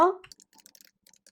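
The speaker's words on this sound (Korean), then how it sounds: "타이핑 하세요" Keystrokes on a computer keyboard while text is entered in Adobe Illustrator CS6, a short run of light, irregular clicks after a brief opening burst of voice.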